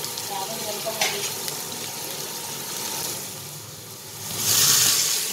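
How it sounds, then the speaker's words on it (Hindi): Tomatoes frying in a pan with garlic, onion and green chillies, a steady close sizzle with faint stirring clatter, rising to a brighter hiss near the end. "डाल रही हूँ मैं टमाटर।"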